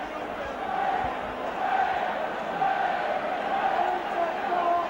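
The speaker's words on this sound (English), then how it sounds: "Both sets of supporters now trying to raise the team" A rugby league local derby crowd of Warrington and Wigan supporters roars in a sustained, broad wash of cheering and chanting, steady and distant-sounding throughout with rising swells, no clear voice standing out.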